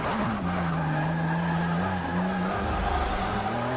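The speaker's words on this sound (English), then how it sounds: "Nothing like drifting your way towards the front here." Tyres squeal continuously as a Porsche RS 4.0 drifts in the racing game Forza 6, a sustained whining screech over a loud steady engine drone.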